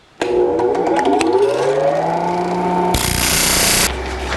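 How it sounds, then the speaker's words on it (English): Angle grinder cutting and trimming steel while fabricating a front straight-axle lift for a 1949 Chevrolet gasser; a loud, steady whine with shifting pitch runs close and continuous, without talk. "let's start trimming away the metal that we don't need. We'll grind in this round piece this time."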